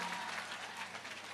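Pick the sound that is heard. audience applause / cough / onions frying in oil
audience applause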